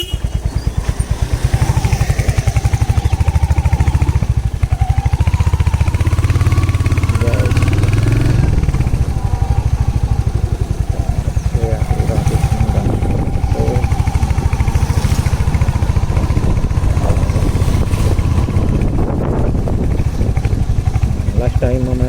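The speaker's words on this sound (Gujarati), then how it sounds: "અત્યારે મારું બાઇક બીજા ગેરમાં 20 ઉપર જઈ રહ્યું છે" A Royal Enfield Hunter 350 motorcycle runs steadily in second gear at around 20 km/h on the road, its engine rumble and wind noise constant and close, with a rider talking over it throughout.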